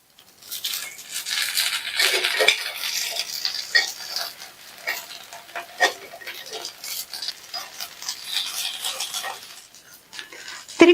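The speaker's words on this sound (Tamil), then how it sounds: "ஒவ்வொன்றையும் திருப்பி போட்டுக்கலாம்" Kuli paniyaram being turned one by one in the cavities of a paniyaram pan, with light scraping and tapping clicks over a soft, steady sizzle of oil, scattered irregularly through the whole stretch.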